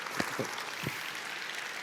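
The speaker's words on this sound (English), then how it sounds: "Give them one more huge round of applause." Church audience applause at a Buckhead Church panel, a dense steady wash of clapping with a few louder individual claps near the start, moderately loud and continuous.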